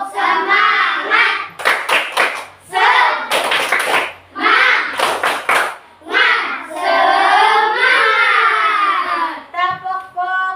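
A classroom of students performs a rhythmic group clap chant, bursts of unison clapping alternating with children's voices calling out together, loud and close in an indoor room.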